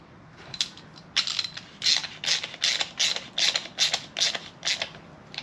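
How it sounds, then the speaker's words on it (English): A torque wrench tightens an Audi TT engine mount bolt, ratcheting in about ten quick bursts of metallic clicking, evenly spaced and close up, with no talking. "This is torqued to 20 Newton meters."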